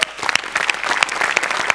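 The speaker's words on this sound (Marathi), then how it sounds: "आज सेटसाठी एकदा जोरात टाळ्या झाल्या पाहिजेत" Loud applause from a studio audience at a Marathi comedy show, celebrating the stage set. It is dense, continuous clapping with sharp individual claps standing out, sustained through the whole moment with no voices.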